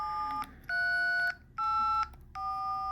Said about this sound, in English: the last app we have is a DTMF tone generator. That's like the old school phone numbers.